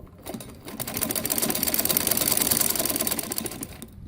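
A sewing machine runs in one continuous fast burst of stitching for about three seconds, sewing a decorative design onto a poncha, the trouser bottom hem. The rattling needle is close and steady, and no one talks.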